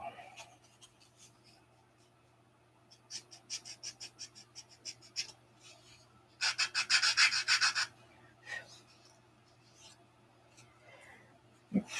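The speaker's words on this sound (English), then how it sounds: "See, I didn't sand that deep enough." Hand sanding of a part for a test fit, short scratchy rubbing strokes in uneven bursts, building to a denser run of fast rasping strokes midway, close and fairly quiet over a low steady hum.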